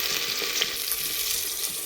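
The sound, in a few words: potato, onion, tomato and chili sizzling while stirred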